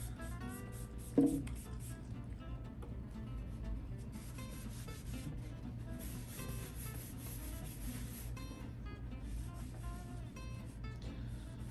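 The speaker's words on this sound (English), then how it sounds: "Just clean them on out. Wipe down the rest of the box." A cloth wipes down the body of a Baby Taylor acoustic guitar during a restring, giving a steady, soft rubbing swish that carries on for the whole stretch, close up and with no talking.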